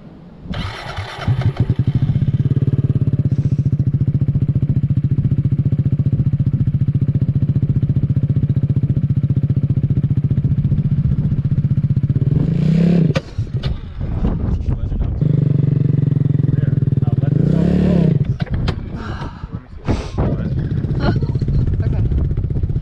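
A motorcycle engine idles steadily, loud and close, while a learner rider lets the clutch out, with two brief revving surges and clatter near the end; no talk over it.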